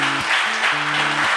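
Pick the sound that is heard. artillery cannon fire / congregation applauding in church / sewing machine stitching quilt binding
congregation applauding in church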